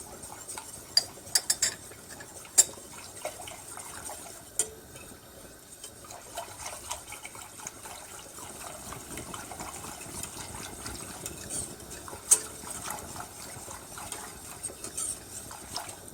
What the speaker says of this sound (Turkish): Bunu da ekliyorum güzelce ve çırpmaya devam ediyorum.